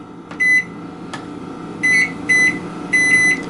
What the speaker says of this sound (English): you probably heard the last minute of the oven timer start